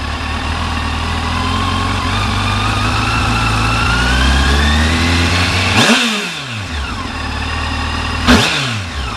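A Yamaha FJR 1300 AE motorcycle engine runs loud and close, its steady drone rising and falling through revs, with two sharp throttle blips near the end.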